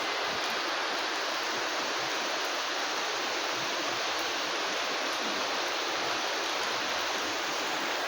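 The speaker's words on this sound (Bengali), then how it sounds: "কামে ধরার হাতেই যে বৃষ্টি নামলো" Steady rain pours outdoors as an even, dense hiss that holds at a constant loudness throughout, with no voices over it.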